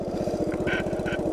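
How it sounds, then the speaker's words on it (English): A Honda PC50 moped engine pulls away from a standstill under throttle, a steady close putter with an even, rapid pulse that holds level through the whole short stretch. "I'm just going to apply throttle"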